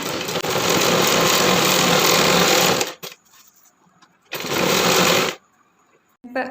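Sewing machine stitching the back and front of a churidar top together, two close bursts of rapid mechanical whirring, a long run of about two and a half seconds and a shorter one, separated by a pause.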